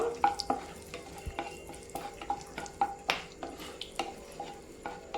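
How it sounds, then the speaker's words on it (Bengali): Whole spices, bay leaves, cinnamon, cloves and cardamom, fried in butter while a spoon taps and stirs them in the pan, soft rhythmic clicks over a faint sizzle, quiet and close. "আমি দিয়ে দিলাম দুটো তেজপাতা আর দারচিনি লবঙ্গ এলাচ গোটা মশলাগুলো একটু ভেজে নেব"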